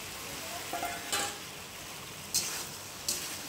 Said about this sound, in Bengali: তার মধ্যে দিয়েছি ভেন্ডিগুলো